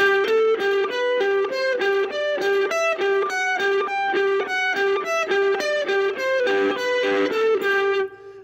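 An electric guitar with effects runs through a fast, evenly spaced scale across three strings, pedaling with every other note finger-tapped, each one crisp and sustained, played alone without talking.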